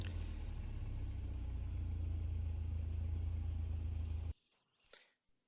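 Mercedes W201 190E with the 2.3 eight-valve engine running steadily, a loud, even low rumble that holds for about four seconds before cutting off abruptly, leaving faint scattered noise.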